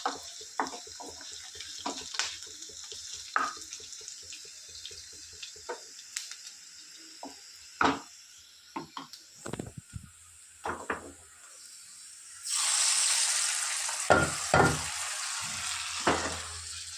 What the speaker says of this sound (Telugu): ఎండుమిర్చి, వెల్లుల్లి, ఆనియన్స్, కరివేపాకు, మినప్పప్పు, శనగపప్పు, ఆవాలు, జీలకర్ర. చూడండి ఎంత బాగుందో పోపు